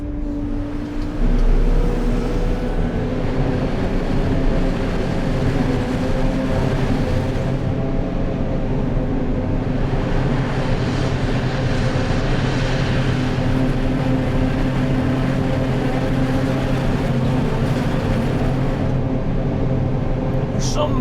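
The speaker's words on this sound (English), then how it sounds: "You can hear you get the sense of the power behind you" The V12 engine and fans of a Fendt Katana 85 drone steadily underneath with a constant whirring hum, while a person talks over it for much of the time.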